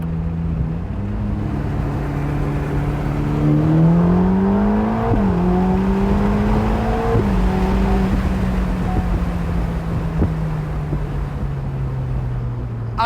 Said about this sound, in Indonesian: pada saat kita jalan dengan atap terbuka seperti ini, kita memang bisa benar-benar mendengarkan suara merdu dari mesinnya